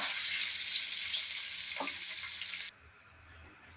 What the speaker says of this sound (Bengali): হালকা করে পনিরটাকে ভেজে নেব